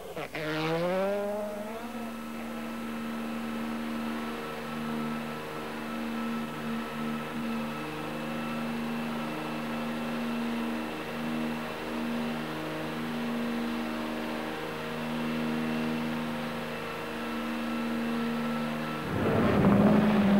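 A rally car climbs Pikes Peak at a hillclimb race, its engine droning steadily with rising and falling pitch as it works through gear changes, with a louder surge near the end.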